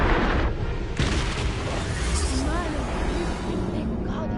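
A Bombarda spell explosion in Hogwarts Legacy: a sharp booming burst followed by a second hit, with crackling debris and game effects trailing off after.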